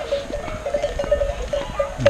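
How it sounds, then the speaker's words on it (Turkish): A flock of sheep in a village setting, with repeated bleats from several animals at close range, a clanking bell and small rustling sounds, and no talk. "Koyun sürüsüne bakacağız."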